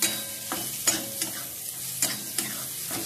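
Spices and soaked, cooked peas for a vatana rassa are stirred in a hot pan, with a soft sizzle broken by a handful of sharp spoon scrapes and knocks against the metal.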